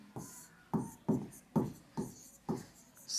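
A pen scratches answers onto paper in a run of quick, evenly spaced strokes, close and fairly crisp, during a class 9 maths exercise on true/false number-system questions.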